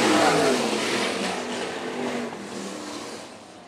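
Sprint cars roar on a dirt track at a race restart, a loud engine swell near the start fading as the pack pulls away, with droning revs continuing into the distance.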